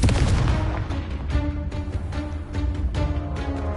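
Explosive Confringo spell blasts in a video game, a dense run of booming, crackling bursts that keep hitting loud and close, with several sharper impacts layered through the whole stretch.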